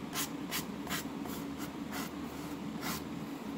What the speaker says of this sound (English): I'm trying not to sand the top outer surface because I don't want to decrease the size of that out.